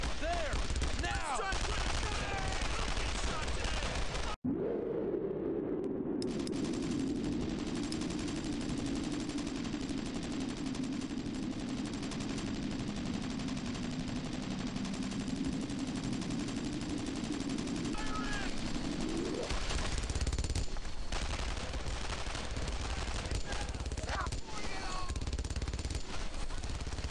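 Gunfire from the World War II shooter Brothers in Arms: Earned in Blood, dense rapid machine-gun bursts and rifle shots rattling almost nonstop, loud and close, with a sustained rumbling blast in the middle and voices shouting under the battle.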